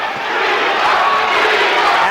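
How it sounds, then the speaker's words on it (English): A big crowd roars steadily at a boxing match between Pinklon Thomas and Mike Weaver, loud and unbroken, with a commentator talking over it. "Listen to the crowd."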